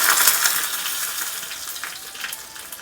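Tempering of urad dal, mustard seeds and cumin sizzles in hot oil for ravva dosa chutney, a bright crackling hiss that starts loud and gradually eases, with scattered pops near the end.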